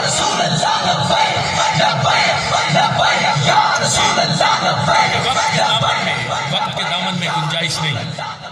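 A large crowd at a religious gathering roars slogans in unison, loud and close, with repeated shouted chants and yelling that swell and ebb in waves across the whole stretch.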